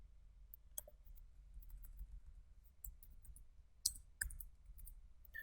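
A computer mouse clicks on a desk, a few sparse, quiet taps spread across several seconds, with a couple of sharper clicks near the four-second mark.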